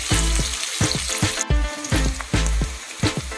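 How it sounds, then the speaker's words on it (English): Shallots fry over a medium flame for village chicken gravy, sizzling loudly and close, while a utensil stirs and scrapes the pan in a quick, regular rhythm. "fry it for about 2 to 3 minutes till the shallots become nice and translucent"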